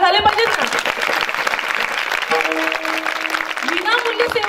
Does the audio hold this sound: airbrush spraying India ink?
no